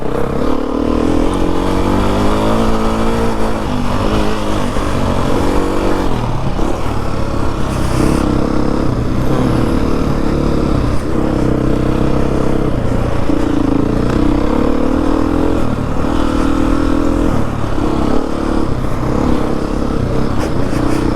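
Beta dirt bike engine on a trail ride, a continuous close, loud motor drone with fluctuating revs and throttle changes throughout, no talking.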